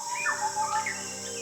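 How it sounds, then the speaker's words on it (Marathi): A scimitar babbler calls near Tamhini in the Western Ghats. It gives a few clear, fluting whistled notes, close and fairly soft, against a steady background of insect hum, with no talking. "हा शिमेटर बॅबलरचा आवाज आहे"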